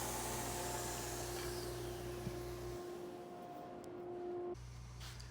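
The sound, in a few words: belt sander sanding wood blocks into a wedge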